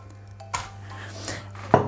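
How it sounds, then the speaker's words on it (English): Chocolate, butter and condensed milk melt in a pan while a utensil stirs them, producing a few light metallic clinks and scrapes against a low hum, quiet and close. "And just continuously stir it until it's melted and mixed together."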